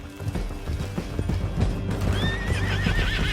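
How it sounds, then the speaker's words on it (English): Several horses gallop in Red Dead Redemption 2, hooves clip-clopping in a steady rush down a canyon, with a horse whinnying toward the end over game sounds and music. "Get him on your horse. Come on, then. Down the canyon. Let's ride."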